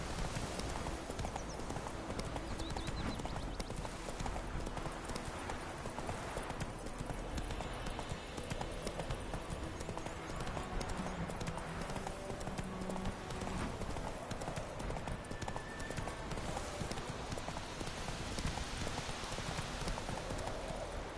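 Hooves of Roach, Geralt's horse in The Witcher 3, clopping in a steady, rapid rhythm throughout, set against a dense wash of game ambience and music.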